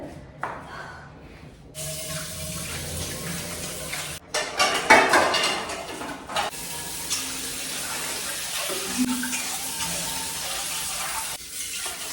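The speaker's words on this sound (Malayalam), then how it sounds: "ഇനി കുറേ പാത്രം കഴുകാനുണ്ട്" Dishes are washed at a kitchen sink. Running tap water hisses steadily while pots and utensils clatter and clink now and then, growing busier in the middle before the flow briefly stops.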